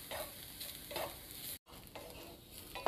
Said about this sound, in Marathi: आता आपण त्यामध्ये खोबरं टाकूया आणि खोबरं सुद्धा आपण 2 मिनिटं व्यवस्थित परतून घेऊया।